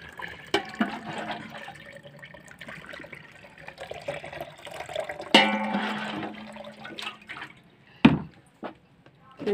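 Orange juice is poured through a sieve into a jug, making close gurgling, trickling liquid sounds that swell and fade, with a couple of sharp clanks near the end.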